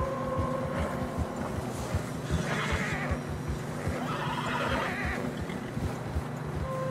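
Horses neigh and whinny in deep fresh snow in the Red Dead Redemption 2 video game, several close, strained calls rising over a steady wind-like rumble, with no talking.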